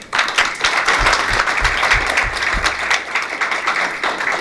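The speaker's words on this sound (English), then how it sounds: "Can we have a big round of applause for Zoe?" An audience at a photography lighting talk gives a round of applause, steady crowd clapping for several seconds with a few low thumps underneath.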